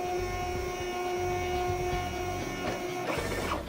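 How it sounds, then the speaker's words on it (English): A Zebra RXi4 label printer feeds labels during calibration with a steady mechanical whir and tonal motor hum, and soft ratcheting sweeps near the end, close and with no talk. "The printer feeds a few labels and automatically calibrates that label."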